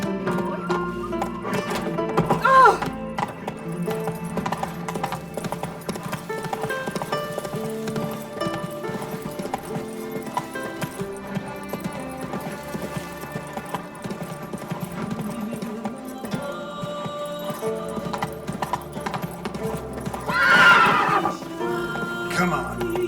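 Horse hooves clip-clop at a gallop through The Witcher 3 gameplay, with two loud neighs around the third and twenty-first seconds over a steady bed of game music.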